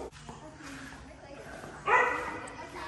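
A dog at a house build site in Thailand barks and yips in short, fairly distant bursts, the loudest near the end, with people talking over it.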